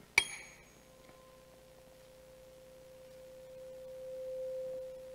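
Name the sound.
single tone from a tube being lengthened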